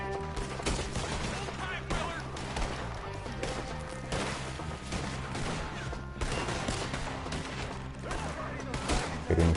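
Rapid gunfire from the video game Red Dead Redemption 2, a dense, continuous barrage of overlapping shots and cracks over a loud game soundtrack.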